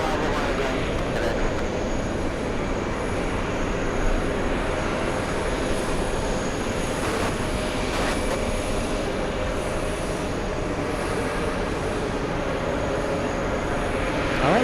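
A Virgin Atlantic airliner at JFK airport gives off a steady, loud broadband roar that holds for the whole stretch, with a faint voice now and then underneath.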